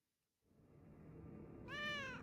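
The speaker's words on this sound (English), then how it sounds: "Oh, cats." In a video game, a cat gives a single bright, rising meow near the end, after a quiet start and a low rumbling ambient bed.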